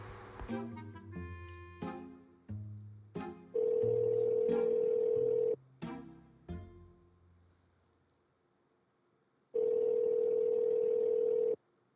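A phone call to a used car seller: quick dialing beeps, then two long steady ringing tones on the line separated by silence, with the call going unanswered.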